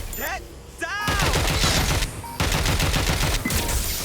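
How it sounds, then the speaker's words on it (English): Rapid bursts of gunfire crackle in Watch Dogs Legion, a dense fusillade of close, loud shots lasting several seconds with a short gap between volleys. "Shots fired! I'm taking fire!"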